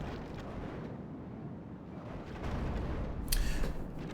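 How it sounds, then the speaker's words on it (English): Mortar shells firing in the Third Age: Total War strategy game: a dull, rumbling battle din that swells into a louder booming burst near the end. "Here come the mortar shots. There we go, mortar shells."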